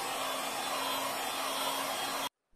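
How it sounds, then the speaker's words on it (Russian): A hair dryer blows steadily to dry brushed-on paint on automotive leather, a loud continuous airy whoosh with a faint hum, then it cuts off abruptly near the end. "И после обязательно краску сушим с помощью фена."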